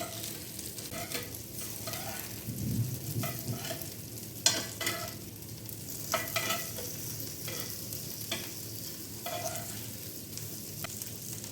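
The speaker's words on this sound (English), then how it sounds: "Let me see if the prawns fry is ready." Prawns fry in a pan with a steady, moderate sizzle, and a spatula stirs them now and then with soft scrapes and taps. No voices are heard.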